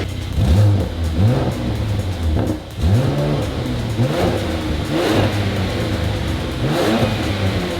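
A Mercedes C43 AMG engine revs repeatedly with its exhaust valves closed, rising and falling in several throttle blips over a steady idle, with a fairly muted exhaust note.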